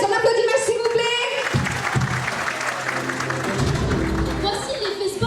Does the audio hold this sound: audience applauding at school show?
yes